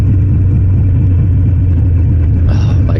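A Harley motorcycle engine pulls through its gears, a loud, close, continuous low rumble that shifts slightly in tone near the end.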